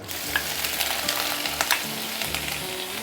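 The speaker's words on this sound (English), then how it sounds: "be very careful when you're throwing in the prawn shell. It will splatter." Prawn shells frying over high heat in a wok: a close, steady sizzle with sharp crackles and spitting pops scattered throughout, no talk.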